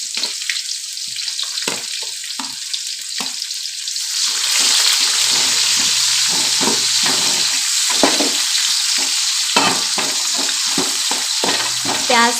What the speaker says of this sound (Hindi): प्याज को अच्छी तरीके से भून लेंगे।